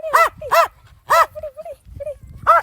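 A playful dog yips and barks in quick high bursts, four or five sharp close calls with soft whimpering tones between them, loud and alone against a quiet background.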